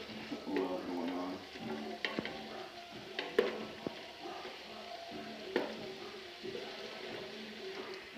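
Pork frying in a pan makes a faint, soft sizzle, broken by scattered sharp clicks and scrapes of stirring throughout, with no talking.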